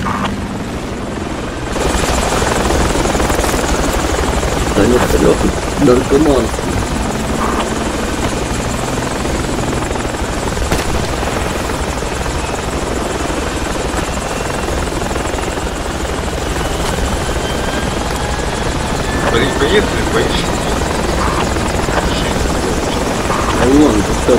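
Helicopter rotor thumping and turbine whine in the Project Reality military game, loud and continuous throughout, with speech and scattered combat noises mixed in.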